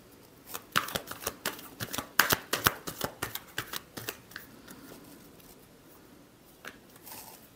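Tarot cards are shuffled by hand, a quick run of crisp riffling slaps and flicks that thins out toward the end, with a couple of later taps, close and clear over a quiet room.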